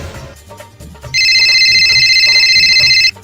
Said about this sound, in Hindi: अरे ये किसका फोन आ रहा है फिर?